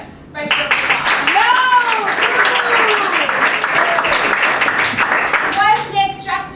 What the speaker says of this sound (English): By show of applause.